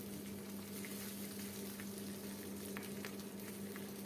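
Cooked rice frying in a pan with salt and turmeric, a steady low sizzle and hiss throughout, close and even, with no talking.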